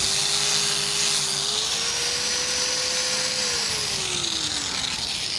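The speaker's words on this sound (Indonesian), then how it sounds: "kita amplas dulu ya teman-teman ya" A power sander works over dried homemade wood filler made from wood material, a loud, continuous motor whine with gritty abrasive hiss whose pitch drifts up and then falls as pressure changes.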